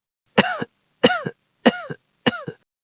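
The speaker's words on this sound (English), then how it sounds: "She coughed." Four harsh coughs, evenly spaced with short silent gaps between them, close and fairly loud with no other sound.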